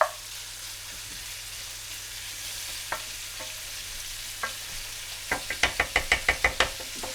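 Food browning in a frying pan for a low-carb salad, a soft background sizzle broken by scattered knocks, then a quick run of rhythmic tapping and stirring near the end.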